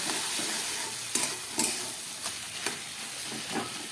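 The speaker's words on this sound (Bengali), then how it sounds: "খুব ভালো করে পোস্তটাকে আবার একটু ভেজে নেব।" Poppy seed paste with four green chillies fries over low gas in a pan, giving a steady close sizzle with a few louder scraping stirs.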